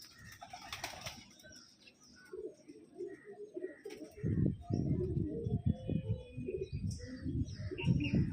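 Male and female Andhra pigeons coo softly in low, rounded bursts, with wing flaps and rustling near the start, growing fuller and busier in the second half.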